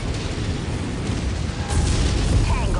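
Missile impacts and explosions rumble in MechWarrior 5 combat, a heavy, continuous low booming that swells louder toward the end, with a faint synthetic voice briefly heard.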